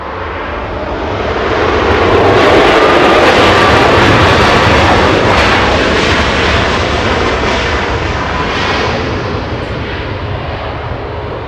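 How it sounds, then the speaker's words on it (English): United flight 706, an airliner arriving from Hawaii at LAX, passing as a loud broad jet roar that swells over the first few seconds, peaks, then eases slightly while remaining strong to the end. "Let's go to the United coming in from Hawaii."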